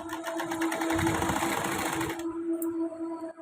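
A sewing machine stitches a small piece of fabric up close, its rapid rhythmic whirr running for about two seconds before it slows and stops, leaving a faint hum.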